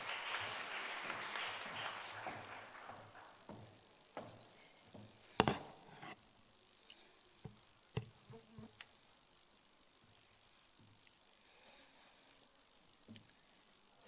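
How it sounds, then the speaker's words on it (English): An audience at a college workshop applauds for a student speaker, rising at the start, then thinning into scattered, isolated claps with quiet gaps between them, fairly distant and soft. "Give her a round of applause."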